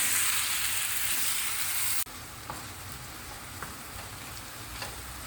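Tomatoes sizzle loudly in a hot pan as a steady crackling hiss. It drops in intensity partway through, then soft stirring ticks continue over the frying.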